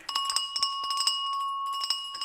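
A bell rung for the stock market open gives a rapid run of repeated strikes over a sustained, bright ringing tone, steady and fairly loud, with no talking.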